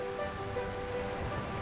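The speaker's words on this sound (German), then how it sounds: "trifft der Pazifische Ozean auf kilometerlange Sandstrände" Pacific Ocean surf rolling onto a long sandy beach in Costa Rica, a steady, soft, continuous wash of waves heard from a short distance, with no talking.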